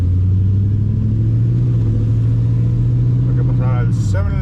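An LS-swapped OBS truck drives along with a steady, deep engine drone and road rumble that stays even throughout, with a voice starting up briefly at the end.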